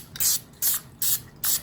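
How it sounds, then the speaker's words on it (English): Four short hissing bursts of white lithium grease sprayed from an aerosol can onto a Honda CB350 motorcycle stator gasket, evenly spaced, close and fairly loud, with quiet gaps between them. "I'm just gonna spray this gasket down real good"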